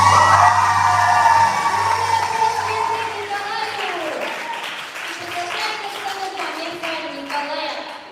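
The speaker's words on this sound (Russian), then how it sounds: "Аплодисменты!" Applause from an audience at a graduation pageant, loud at first and gradually thinning, with a sustained musical tone and voices carrying over the clapping toward the end.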